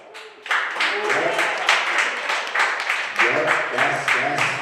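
Comedy club crowd bursting into applause and cheers, dense rhythmic clapping with whoops swelling and pulsing, close and continuous after a brief quiet start.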